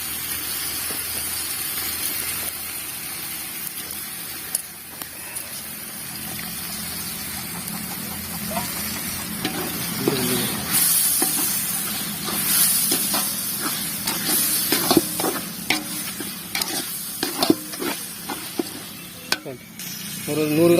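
Washed chicken frying in a pan for biryani, a loud, continuous sizzle and hiss up close with scattered pops and spatters, broken by scraping stirs and light clinks.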